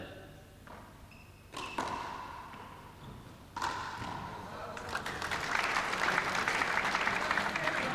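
Spectators at a 1988 Dublin Millennium International squash match clap, with a couple of sharp knocks early on, then applause swelling into a sustained, fairly distant patter.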